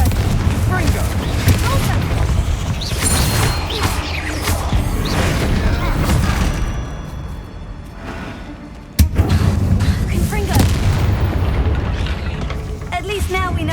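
Bombarda explosion spell cast in the video game Hogwarts Legacy, with dense booming blasts and crashing debris filling the scene, a sharp loud impact near the nine-second mark, and a voice calling out spells over the din.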